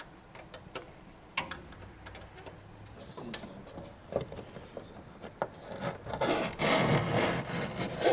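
A hose for a Polaris RZR upgrade is cut to length with a tool, giving a close series of scraping, sawing strokes and sharp ticks that build into steadier, louder cutting near the end.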